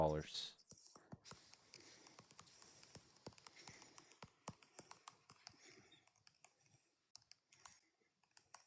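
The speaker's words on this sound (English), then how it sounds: "I'm just typing it on my iPad here really quick." Quick, light taps on an iPad touchscreen come in irregular bursts, close and faint, followed by a soft background murmur.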